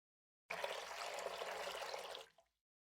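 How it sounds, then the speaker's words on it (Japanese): Running water gushes steadily for about two seconds, a close, splashing rush that starts suddenly and cuts off with a last small splash. "三葉は顔を洗いながら鏡を見ます"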